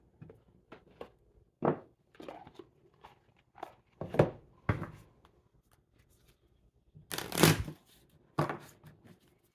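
Cards are shuffled and drawn in a reading: an irregular string of soft riffles, snaps and slaps, one longer burst of shuffling near the end, close and quiet, with no voices.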